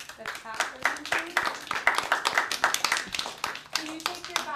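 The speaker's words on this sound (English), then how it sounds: "let's clap for them, please." Children in a dance class clap for classmates after a performance, quick close hand claps in a loose, fairly steady rhythm, with an adult's voice heard faintly alongside.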